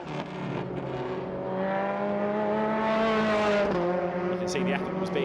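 A MRF Challenge race car accelerates on track during a free practice session, the engine note climbing steadily in pitch as it winds up, loud and sustained, with a race commentator talking over it.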